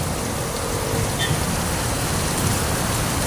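Heavy rain pouring steadily, a dense, loud, unbroken hiss of drops on surfaces that fills the whole stretch with no voices heard.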